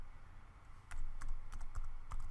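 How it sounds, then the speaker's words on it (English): Keys clatter on a computer keyboard in quick, uneven bursts, close and fairly quiet, with a short pause before a denser run of typing. "I wanna type something more here"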